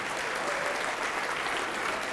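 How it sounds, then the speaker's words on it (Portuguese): A church congregation applauding, dense even clapping from many hands sustained throughout, fairly close and full, with no distinct voices. "vamos aplaudir mais ao nome de Jesus"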